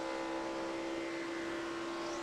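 Stock car engine at Charlotte Motor Speedway during final practice for the 2009 Nationwide Series race, holding a steady high drone at a constant distance with the throttle easing slightly, loud and alone.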